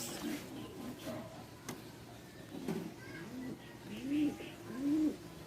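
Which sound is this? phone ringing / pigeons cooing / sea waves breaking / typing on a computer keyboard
pigeons cooing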